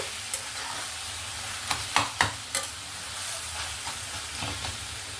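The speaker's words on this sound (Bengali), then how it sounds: "ইলিশ মাছের মাথাটা দিয়ে আবারও ভালো করে নেড়ে নেব" Fried hilsa fish heads are stirred into taro greens in a pan, a soft steady sizzle with a few sharp scraping strokes of the spatula clustered in the middle, close by and without talk.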